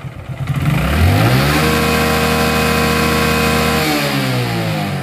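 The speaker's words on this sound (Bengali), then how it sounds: "এখন বাইকের ইঞ্জিনের সাউন্ড শুনুন" A motorbike engine, just fitted with a new clutch plate, revs up loud and close, climbing quickly and then holding a steady, even drone before easing slightly at the end.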